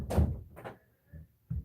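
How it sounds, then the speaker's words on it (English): Indoor door being closed, a solid thunk followed by softer knocks and a final bump, close by with no talking. "But close the door all the way."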